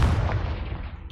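A Confringo blasting spell in Hogwarts Legacy: one loud, booming burst that fades away over about a second.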